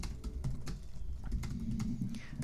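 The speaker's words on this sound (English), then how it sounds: "I just started typing in jokes with Mike and Dave" Close, rapid typing on a computer keyboard: an irregular run of light key clicks, heard alone with no talking.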